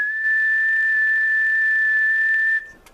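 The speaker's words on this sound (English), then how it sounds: "I'll just whistle into the mic." A single steady whistled tone sent into the microphone of a Yaesu FT450 or FT857D ham radio transmitting on lower sideband, held for about two and a half seconds at even loudness and then cut off abruptly.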